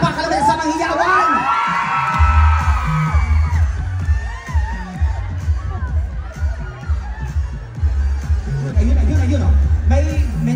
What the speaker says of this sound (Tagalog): Parinig natin ang palakpakan naman sa mga hiyawan!